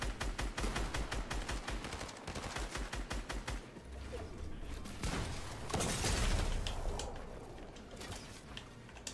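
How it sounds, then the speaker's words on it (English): Rapid bursts of gunfire from a Fortnite match, sharp repeated shots in fast strings that break off, resume, and end in a heavier sustained volley near the close. "The bro's just shooting me"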